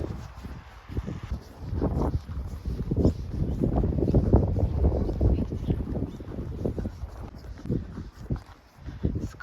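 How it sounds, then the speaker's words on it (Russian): Strong wind buffets the microphone on a snowy winter street in Ukhta, Komi Republic, in February, a continuous low roaring rumble with irregular gusts swelling and easing. "Ветер сильный, флаги развиваются."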